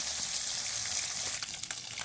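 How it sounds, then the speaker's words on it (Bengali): Small chela fish, cleaned and rubbed with salt and turmeric, frying in oil, a soft, even sizzle with a few faint crackles and spatters near the end, quiet and close with no voices. "প্রথমে মাছগুলো ভেজে নেব"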